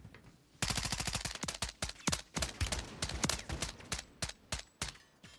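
Rapid bursts of automatic gunfire from a Chimera or a switch-equipped Glock in Call of Duty on Rebirth Island ring out loud and close. Several quick volleys are separated by short pauses, with no talking.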